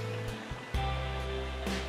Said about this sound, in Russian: Вот уже слышно, что она бежит, вода.